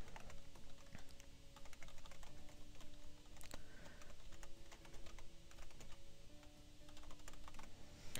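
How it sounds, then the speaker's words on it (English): Steady typing on a computer keyboard, a continuous stream of quick, close clicks with no talking. "So I'm just going to start typing that in."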